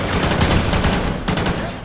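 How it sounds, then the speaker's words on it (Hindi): Rapid automatic gunfire from a weapon in the video game Call of Duty Ghosts, a loud, dense, continuous burst of shots close up with no pauses. "क्योंकि ये जब चलती है तो भाई धमाका क्या भयानक होता है"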